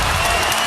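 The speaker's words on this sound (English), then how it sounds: "Crowd all pumped up, appreciative of an amazing night" A basketball arena crowd at a Raptors game roars in cheering and applause after a triple-double performance, a dense, loud, continuous wash of noise with no breaks.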